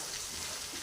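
Tomato sizzling in hot oil while being stirred for chicken chilli, a steady close frying hiss through the short moment with a brief sharper scrape or splash at the end.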